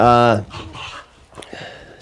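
Excited dogs panting and whimpering with happiness as their owners come home, a strong harmonic whine at the start followed by softer breathy panting and faint yips.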